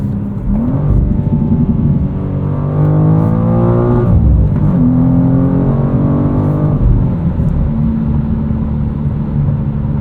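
A 2023 BMW M2 with a manual gearbox accelerates hard, its turbo engine note climbing in pitch through the revs, dipping briefly at a gear change, then rising again in a loud, steady in-cabin drone.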